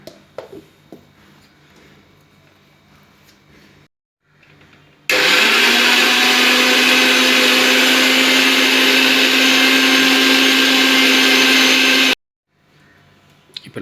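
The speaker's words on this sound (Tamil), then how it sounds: "ஸோ இப்போ இதை வந்து க்ளோஸ் பண்ணி அரைக்கலாம்" A kitchen blender roars for about seven seconds, loud and steady, grinding watermelon chunks with lemon into juice, bracketed by quiet handling noises before and after.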